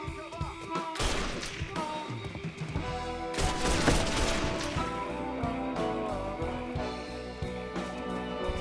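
Gunfire rattles through a Mafia III firefight, with dense overlapping bursts of shots, loud cracks and clattering impacts that continue steadily throughout.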